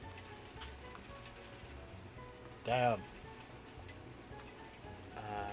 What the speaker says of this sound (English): It's raining hard too.